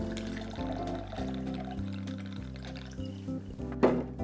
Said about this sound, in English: Okay, let's add some gin.